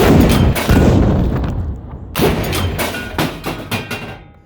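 A tank's main gun fires with a loud, close boom, followed by a rumbling decay and a second blast with scattered echoing thumps.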